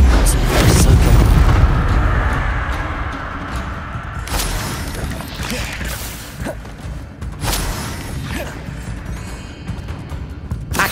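A fire spell is cast in the video game Hogwarts Legacy, heard as a loud booming whoosh that swells at the start, then a few more bursts and sweeping swishes trail off under steady game ambience.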